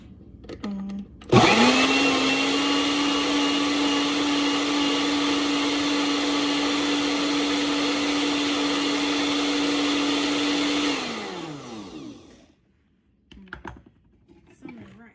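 A blender starts with a loud jolt and whirs at a steady, high-pitched motor tone for about ten seconds while bananas are blended for banana bread, then spins down, followed by faint handling sounds.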